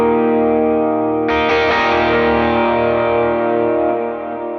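An electric guitar chord on the bridge pickup rings out with stage-one overdrive grit, then a brighter strum blooms into long, echoing eighth-note delay and wide reverb that slowly fades.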